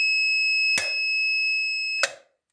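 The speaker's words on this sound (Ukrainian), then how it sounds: "Увімкнув, воно пищить до тих пір, поки не включу замок." A continuous high-pitched electronic buzzer on a Skaut 404 tractor sounds as a reminder, broken by two sharp clicks, then stops abruptly after the second click.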